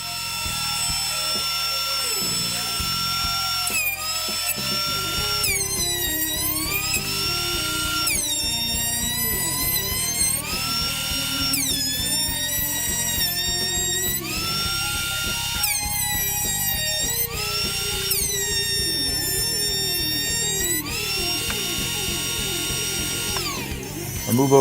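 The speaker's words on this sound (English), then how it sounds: "So I'm using my planer to square up this, well, to clean up the walnut for this project." Thickness planer feeding rough-sawn walnut lumber, a loud continuous whining machine roar with repeated rising and falling pitch sweeps as each board enters and exits the cutterhead, no voices.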